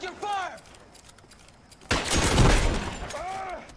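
A loud burst of gunfire from the L.A. Noire game, a dense roaring volley in the second half, with voices speaking before and after it.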